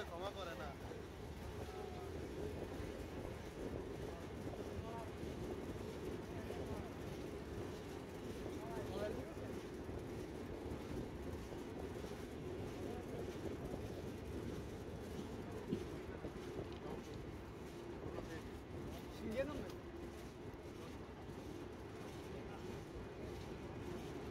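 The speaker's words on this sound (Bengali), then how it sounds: "আপনারা এনজয় করতে থাকুন পদ্মা এক্সপ্রেস ট্র্যাকের হাই স্পিড গতির পথ চলা" Rupshi Bangla Express, an American EMD locomotive hauling Chinese coaches, running at high speed on its inaugural run toward Jessore and Benapole; a steady, continuous rumble and wind roar holds throughout, with someone talking over it.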